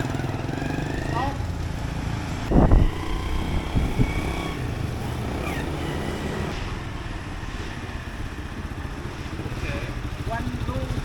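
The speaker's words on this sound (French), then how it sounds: "je suis sur une moto à vitesse" Geared motorcycle ridden through traffic in Vietnam, its engine a steady mid-pitched drone with a brief louder burst of revving, while people talk over it.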